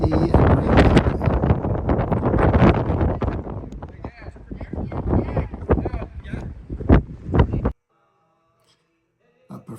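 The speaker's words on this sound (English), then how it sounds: "it's windy and rainy" Strong gusts batter the microphone on a rainy Atlantic coast beside old Celtic stone ruins, with loud buffeting rumble and bursts of people talking, then a sudden near-silence before the wind returns briefly.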